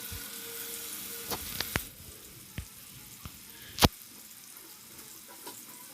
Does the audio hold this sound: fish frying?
yes